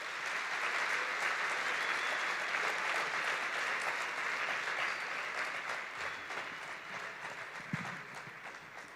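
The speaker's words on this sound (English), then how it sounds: "please give you a warm round of applause as you make your way over to the lectern" An audience at a university vice-chancellor's official welcome ceremony gives a warm round of applause, thick steady clapping that continues for the whole stretch and eases slightly toward the end.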